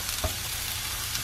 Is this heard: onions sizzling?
yes